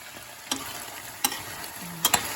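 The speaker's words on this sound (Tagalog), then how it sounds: "Papapupula-pulahin ko din ulit ang karne." Meat for igado browns in a frying pan, a soft continuous sizzle punctuated by three or four quick, crisp scrapes of a spatula stirring it, with no voices.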